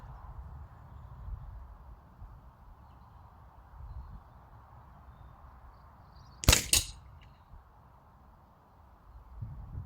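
Single sharp shot from a Walther LGU .22 spring air rifle firing a pellet, a brief crisp crack with a short follow-up rattle over a quiet room hum, no talking.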